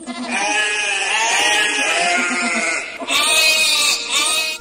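A goat bleats loudly and close, two long wavering cries with a brief pause between, alone without talk.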